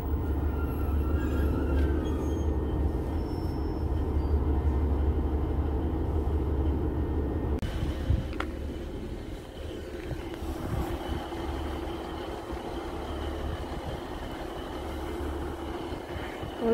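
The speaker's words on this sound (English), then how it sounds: "We're gonna wait for this train to leave." A train rumbles past at moderate distance, a steady low roar and clatter that shifts midway and fades into quieter rolling noise.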